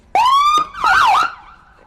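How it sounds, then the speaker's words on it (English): A loud electronic police marine unit boat siren gives two short bursts, a rising wail followed by a warbling yelp, close and clear. "We're lucky enough to have a siren"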